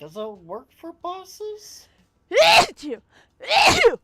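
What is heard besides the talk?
sneeze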